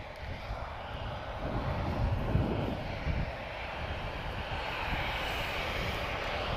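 A KLM Boeing 737-800 jet takes off at Lisbon Airport, its engines a broad continuous roar heard from a distance, swelling slightly in the middle and holding steady to the end.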